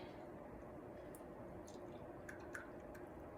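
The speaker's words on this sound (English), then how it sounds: "I can drain this grease out" Grease from cooked lean ground meat drains from a steamer into a prep bowl, giving faint, soft drips and small wet squishes spread sparsely over a quiet, steady background.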